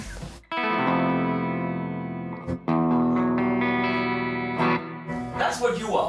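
Sustained chords ring out from an LT Custom Guitars electric guitar on its neck pickup, drenched in reverb and delay, with a brief break mid-phrase and trailing echoes as a voice comes in near the end.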